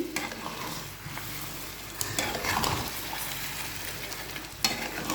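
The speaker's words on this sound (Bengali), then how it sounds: "নাড়া দিয়ে দিবেন সুন্দর করে" Olive pickle being stirred in a pan, a continuous close sizzle with scraping and stirring of the spoon against the pan, a few sharper clinks and knocks standing out along the way.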